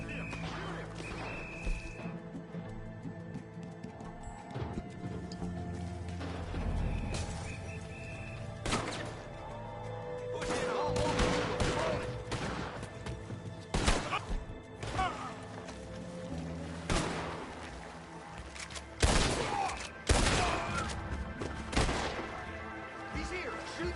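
Sharp gunshots crack out irregularly among crashes and mechanical clatter in the Red Dead Redemption 2 video game, some near and loud, with voices shouting in between.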